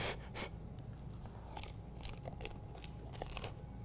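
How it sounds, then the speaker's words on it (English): Biting and chewing crunchy, very hot homemade pan pizza up close: a series of sharp, irregular crunches and crackles, faint and without talk. "Can you hear? Super crunchy."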